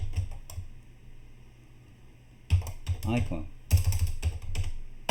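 Keystrokes on a computer keyboard come in short bursts of quick taps while a person talks over and between them during a session setting up Android app menus.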